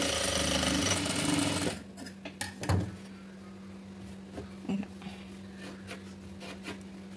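A sewing machine stitches blouse cloth in a brief loud burst at the start, then stops; a few knocks and clicks of handling the fabric or machine follow against a steady low hum.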